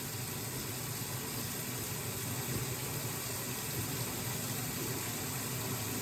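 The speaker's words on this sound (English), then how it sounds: "she's going to turn the faucet off using the paper towel" Tap water runs steadily from a faucet during handwashing, a continuous even rush of water with no breaks, moderately loud and close.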